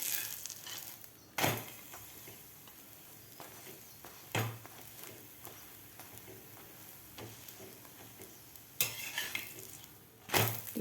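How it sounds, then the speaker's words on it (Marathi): Potato spinach paratha roasting with oil on a hot pan, a low sizzle under sharp scraping and clanking of a spatula against the pan in several loud bursts, close with no talking. "दोन्ही साईडकडून आपल्याला हा पराठा भाजून घ्यायचा आहे. दोन्ही साईडकडून आपल्याला तेल लावून घ्यायचं आहे."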